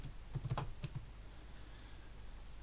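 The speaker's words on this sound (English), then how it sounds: "Now I've typed the word." A handful of quick keystrokes tapped on a computer keyboard, a short burst of clicks near the start and two more a moment later, then quiet room tone.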